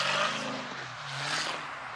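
A Dodge Hellcat drives through snow, its supercharger whine rising and falling over engine noise and tire sounds, moderately loud and continuous with no talking.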